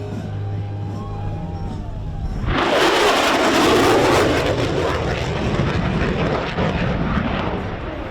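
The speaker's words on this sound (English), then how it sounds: "the Super Hornet high-speed pass" An F/A-18E Super Hornet jet makes a high-speed pass at an air show, a quiet lead-in suddenly giving way to a loud, broad roaring rush that peaks and then slowly fades while still rumbling.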